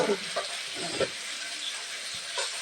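Fish frying in a pan at home, a soft hissing sizzle with a few scraping stirs and light knocks, fairly quiet and steady, with no one talking.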